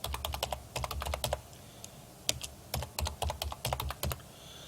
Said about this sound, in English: you just got to type in